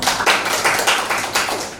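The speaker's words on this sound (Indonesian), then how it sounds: "Tepuk tangan." A class claps hands in unison, producing a quick series of sharp, close, rhythmic bursts that repeat evenly about every third of a second, with no talking.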